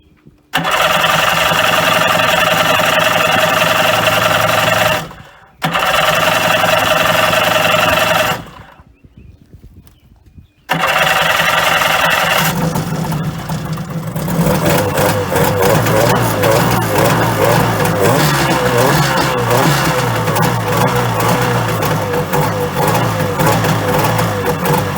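A 1980 Kawasaki JS440 jet ski two-stroke engine cranks loudly in two long bursts, falls quiet, then catches and runs steadily at a loud, close buzzing idle with a rough, uneven rumble.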